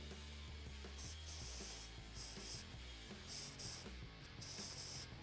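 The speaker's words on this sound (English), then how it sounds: "use some contact cleaner to clean our drain plugs." Contact cleaner sprayed onto oil drain plugs from a Honda TRX400EX quad, short hissing spray bursts repeated several times over a low background hum, faint and close.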